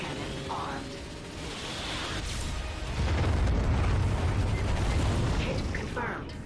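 A Starwatch ion cannon strike in a video game lands as a deep, rumbling blast that swells louder midway and holds in a sustained roar, with game sounds and a voice partly mixed in.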